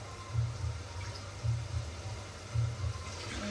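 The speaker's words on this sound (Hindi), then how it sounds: "तो पहले इसमें पानी डाल देते हैं।" Water poured into a cooking pot of fried masala, heard as low sloshing, splashing bursts in three pulses over a faint steady background, with no talking.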